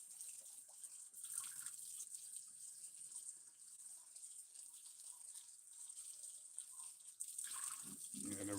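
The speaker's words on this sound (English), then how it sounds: "you gotta rinse a bowl out sometimes, some nice hot water" Hot tap water runs steadily into a bowl being rinsed, a continuous low splashing and hiss with small shifts as the bowl moves, a louder gush near the end.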